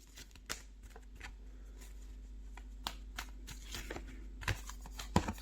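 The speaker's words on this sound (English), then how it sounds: "There's one last card I need to take, which is how you closed out the cycle." A tarot card is drawn from the deck in a quiet room: soft papery rustles and shuffling slides with a few sharper flicks near the end, faint and close, with no talking.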